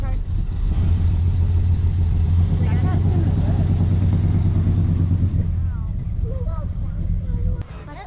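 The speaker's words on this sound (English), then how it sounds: "listen to this engine" At a car show on fairgrounds, a loud car engine idles with a deep, lumpy rumble up close for several seconds before easing off, while people chat nearby.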